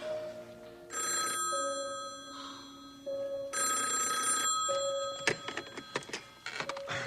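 An old-style telephone bell rings in several long, loud bursts separated by short pauses, followed by a few clattering knocks as the receiver is picked up.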